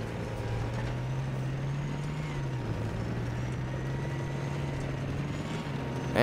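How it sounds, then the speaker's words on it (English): A helicopter in Battlefield 4 drones steadily throughout with a low, continuous rotor and engine hum, holding an even loudness from start to finish with no voices over it. "Damn, that dude's flying the shit out of that helicopter."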